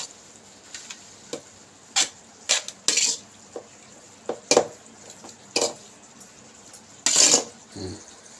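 Tamarind rice stirred in a pot outdoors in the sun, irregular metallic scrapes and clanks of a spoon against the pot, loud and close, spaced across the stretch with quiet gaps between.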